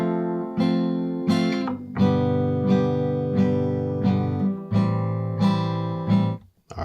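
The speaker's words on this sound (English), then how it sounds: "Let's say you want to do a 4, 5, 6 chord progression. It sounds like this." A guitar strums a 4-5-6 chord progression as a run of about ten ringing chord strikes at a steady, even pace. Each strum sounds close and clear, with no voice over it.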